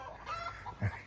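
Hens cackle and cluck in a short burst, with one louder squawk near the end, somewhat muffled as if from inside a coop.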